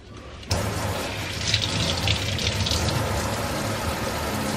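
Water from a kitchen tap rushes steadily into a sink, starting abruptly after a brief quiet moment and continuing as a constant close splashing hiss.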